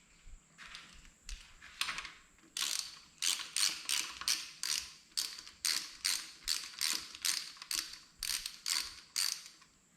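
Wrench ratcheting on the connecting rod cap bolts of a Cub engine, a quick run of close, rhythmic clicking bursts repeating steadily with no talk.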